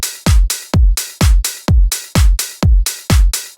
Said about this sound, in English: One clap